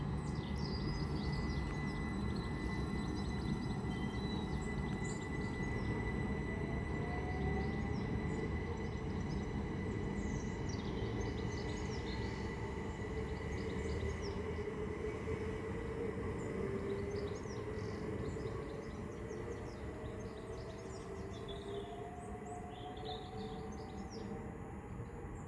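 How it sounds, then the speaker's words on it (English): A Great Western Railway train to London Paddington moves off from Pangbourne station on the Great Western Main Line. A long, steady rolling rumble and rail hum fades slowly, with birds chirping in the background and no voices. "the 11:17 Great Western Railway service from Didcot Parkway to London Paddington"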